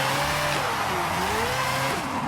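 Four-rotor stunt car in Forza drifting, its rotary engine revving hard with rising and falling pitch while tires squeal through the slide, loud and continuous with no talking.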